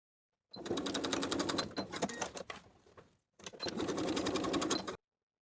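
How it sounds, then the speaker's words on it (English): A sewing machine basting straps onto a jumper runs in two close, steady bursts of rapid stitching, pausing briefly in between, with no one speaking. "Baste your straps in place."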